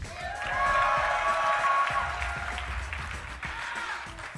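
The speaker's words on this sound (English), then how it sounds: "Let's hear it from the crowd." A StarCraft 2 esports crowd at an IPL4 group match cheers and applauds for the players, loud sustained clapping with high shouts and whoops that fade slightly toward the end.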